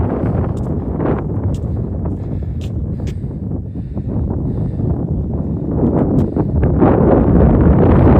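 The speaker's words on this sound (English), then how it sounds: "it seems like it's always windy here" Strong wind buffets the microphone in a continuous low roar, growing louder and gustier toward the end.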